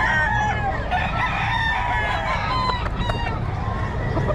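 A rooster crows repeatedly close by, its rising calls over a steady low rumble of outdoor background noise, with other fowl faintly clucking.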